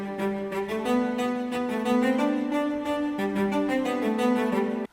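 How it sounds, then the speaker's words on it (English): A lone cello plucking a middle pizzicato line, a run of resonant notes that ring into one another and move slowly in pitch, heard clearly on its own. "This is just one cello, which sounds like this."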